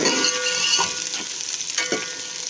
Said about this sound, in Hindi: इसके अंदर मैंने थोड़ा सा ऑयल डाला है क्योंकि प्याज हमारा ब्राउन हो जाए।